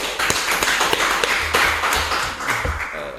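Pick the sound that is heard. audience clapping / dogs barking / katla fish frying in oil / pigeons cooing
audience clapping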